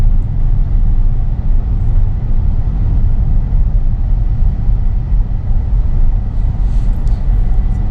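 A Volvo XC60 SUV drives along and takes a right turn, heard from inside the cabin as a loud, steady low road and engine rumble that holds without a break.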